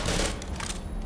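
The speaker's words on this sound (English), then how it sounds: "Your brother is shooting at you, James." Rapid gunfire from the video game Black Mesa crackles in a dense, fairly loud burst of overlapping shots with no voices.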